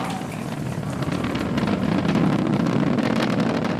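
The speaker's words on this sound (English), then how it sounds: "We're into the throttle down, into the throttle bucket. Stage 1 throttle down." Falcon 9 rocket engines throttling down during a crewed launch, a steady, dense broadband roar that swells slightly and holds without a break, with no voices.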